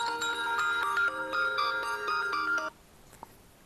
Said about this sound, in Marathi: त्यांचे सारखे फोन चालू झाले